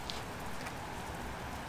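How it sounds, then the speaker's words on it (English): Steady rain falls outdoors, a dense soft hiss of drops without a break, moderately quiet and heard on its own. "Out here in the rain."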